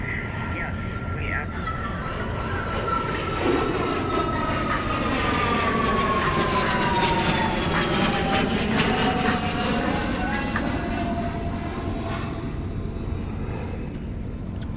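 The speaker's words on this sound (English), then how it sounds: "Nice private jet." A private jet's engine roars steadily for about fifteen seconds, loud and near, with a rising then falling whine as the plane passes by.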